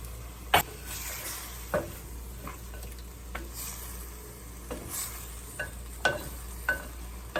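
Soy sauce is poured into pork adobo cooking in a pot, giving a steady sizzle with occasional scraping and stirring knocks against the pot, all fairly close and with no talking.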